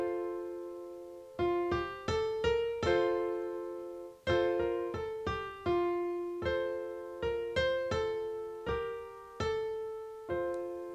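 Piano notes struck in a series of chords, with left-hand passing notes leading into them, each attack ringing and decaying, played clearly and alone at moderate volume.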